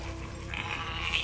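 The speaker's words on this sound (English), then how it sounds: "Yeah, it's a goat." A goat in the video game Spyro Reignited Trilogy gives a short, wavering bleat, fairly quiet and alone over game ambience.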